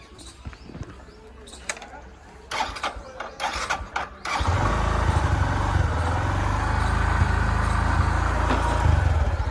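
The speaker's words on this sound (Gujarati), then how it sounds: "ગાઈસ બાઇક ચાલુ કરીએ આપણે. ચાલુ થાય કે નહીં ચેક કરીએ." A motorcycle is kicked and cranked through several short bursts of effort, then its engine catches and settles into a steady, loud idle. A voice is heard briefly.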